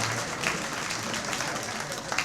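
An audience at a university athletics hall of fame banquet claps steadily in a hall, a dense, even wash of applause lasting the whole moment, with faint voices mixed in.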